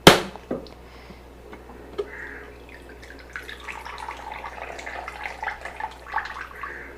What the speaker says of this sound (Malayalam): നമുക്ക് പൊട്ടിച്ചിട്ട് തേങ്ങ വെള്ളം എടുക്കണം